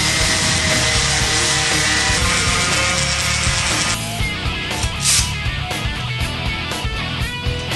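Wood being sanded by hand with sandpaper on the bottom and inner edges of a corner shelf part, a dense, continuous scratchy rubbing up close that shifts to a lighter, choppier rhythm midway.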